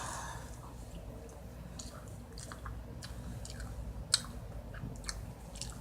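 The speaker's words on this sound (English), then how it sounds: "These marshmallows are so fucking chewy." Marshmallows are chewed close to the mic at a quiet level, giving soft, sticky, squishy mouth sounds with small smacks and one sharper click, and no talk.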